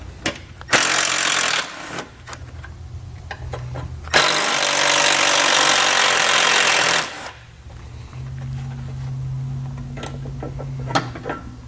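Power tool running in bursts on a 2019 Jeep Grand Cherokee, spinning an 8mm socket to remove two bolts: two long, loud whirring runs separated by short pauses, then lower mechanical hum and clicks, with no talk.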